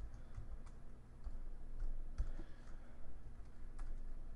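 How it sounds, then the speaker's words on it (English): Computer keyboard typing during an Xcode 4 iOS programming session, a few soft, sparse clicks close by over a low steady room hum, with no talk. "And if I can type, there we go."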